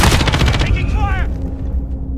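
Rapid automatic gunfire from Call of Duty: Modern Warfare in a night-mode realism mission, a loud dense burst that tails off into a decaying echo, with a brief radio-style voice callout partway through.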